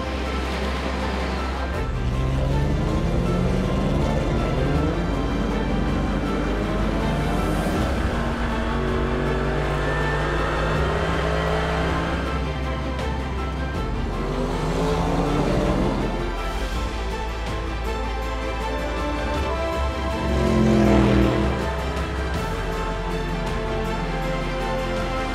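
Race cars pull away at the start of the Le Mans 24-hour race, a loud, continuous engine roar with layered rising revs and overlapping passes that swell and fade across the field, with no talking.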